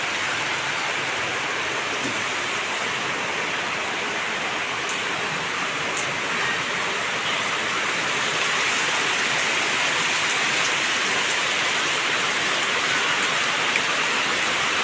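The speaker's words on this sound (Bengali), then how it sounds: "বৃষ্টি" Steady rain falls around a village house, a dense continuous patter on surfaces, moderately loud and unbroken throughout.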